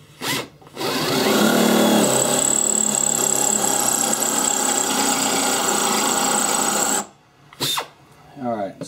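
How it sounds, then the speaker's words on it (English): A power drill bores the barrel pin hole through a new AK rifle barrel, a loud steady whine lasting about six seconds before it cuts off, followed by brief scraping and handling noises. "All right, let's get back to drilling this."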